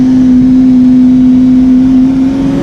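A Lamborghini Centenario's exhaust holds a loud, steady drone with a strong constant tone, close and sustained, easing slightly near the end, with no talking.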